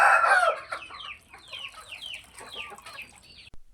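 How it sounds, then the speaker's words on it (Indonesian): Chickens and chicks in a coop at feeding time, fed a mix of swollen rice, commercial feed and wild spinach, give a loud burst of clucking and crowing, then a run of rapid, repeated chirping cheeps close by. "anak-anak ayam langsung menyerbu dan berebut makan"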